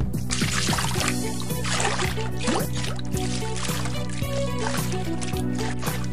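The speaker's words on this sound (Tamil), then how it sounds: "2 கப் பிரியாணி அரிசியை 2-3 தடவை வாஷ் பண்ணி எடுத்துக்கிறோம்." Biryani rice being washed in water, with continuous loud sloshing and pouring under a constant background hum and rhythmic clattering, close and busy throughout.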